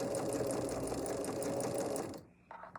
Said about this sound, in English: I should be able to take it to the machine and just stitch